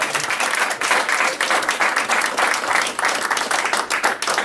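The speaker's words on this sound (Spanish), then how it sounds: "Den un fuerte aplauso a Dios." Church congregation giving a strong round of applause during a service, dense rhythmic clapping from many people that holds loud and steady throughout, without speech.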